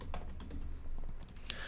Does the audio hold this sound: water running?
no